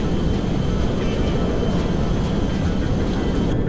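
A US military C-5M Galaxy transport plane in Grand Theft Auto V drones in flight, a loud, steady, dense engine roar that holds evenly throughout with no voices.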